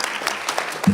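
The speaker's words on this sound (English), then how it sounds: "So a round of applause." Audience applause at an investor roundtable during a business forum AGM, a brief burst of many hands clapping in an indoor hall, moderately loud and filling the whole moment.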